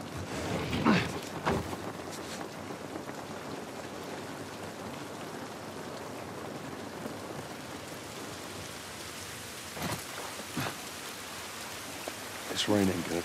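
Steady rain falls in The Last of Us Part I, a continuous hiss of drops on surfaces spread evenly through the scene, with a few louder footstep-like knocks and brief spoken moments over it.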